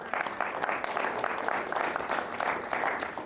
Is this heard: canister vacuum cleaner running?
no